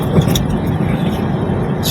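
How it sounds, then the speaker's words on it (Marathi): A Mahindra Scorpio driving along a highway, a loud continuous road and engine roar passing close by with steady wind rush. "ही आमची गाडी आली दुसरी स्कॉर्पिओ."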